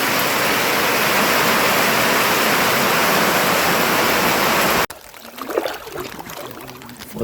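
Floodwater rushes in a loud, continuous roar during a morning flood, then cuts off abruptly, leaving quieter, uneven water and background sound.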